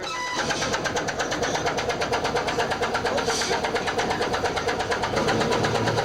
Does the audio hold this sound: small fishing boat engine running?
yes